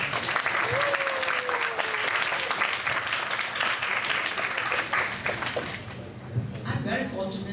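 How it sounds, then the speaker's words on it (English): Audience applause at a Toastmasters District 51 address, a dense, steady wash of many hands clapping loudly throughout, with brief voices and a short tonal sweep mixed in. "Give yourself a big round of applause."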